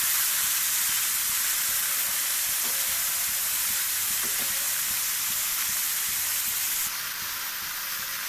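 Lentils (dal) frying with turmeric, salt and sugar, a steady close hissing sizzle with a few faint clicks, continuous with no talk.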